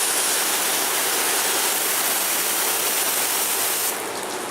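A hose sprays water onto an overhang roof and a newly installed rain gutter, making a steady, loud broadband hiss and splash that continues throughout and eases slightly near the end.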